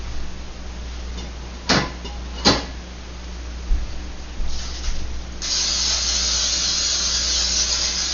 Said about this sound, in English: Let me spray the pan.